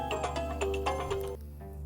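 A phone ringtone plays as a quiet repeating melodic chime pattern over a low background hum, with the tune stopping near the end.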